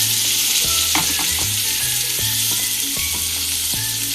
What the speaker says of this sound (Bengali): এখন আমি ভাজার এই পর্যায়ে দিয়ে দিচ্ছি অল্প পরিমাণে পেঁয়াজ কুচি